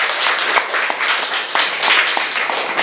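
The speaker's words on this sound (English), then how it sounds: "let's give the Lord another big round of applause" A congregation at a church thanksgiving service claps in a dense, continuous round of applause, the sound fairly close and even, with no talking over it.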